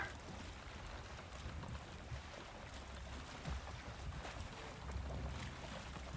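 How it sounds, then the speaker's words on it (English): Steady wind and water rush while a boat sails in a video game, a soft continuous whoosh with low rumbling and no talk. "Wait a minute, did the wind just change direction as soon as I did that?"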